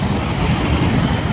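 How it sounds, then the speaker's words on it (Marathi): A train rolls past on a bridge, a steady, loud low rumble and wagon clatter that holds the whole time with no speech. "तर काही ट्रेन आलेली, आपण या ट्रेननंतर जाणार आहे."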